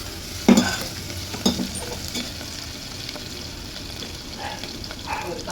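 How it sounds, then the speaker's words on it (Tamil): Green chilies, dried red chilies, mustard seeds and cumin spit and sizzle in hot oil for tempering, with a continuous crackle broken by two sharp pops near the start and lighter spatters later. "பச்சை மிளகாய், காஞ்ச மிளகாய், கடுகு, ஜீரகம், எண்ணெய் விட்டு நம்ம இதை இந்த மாதிரி பண்ணிக்கிட்டோம்."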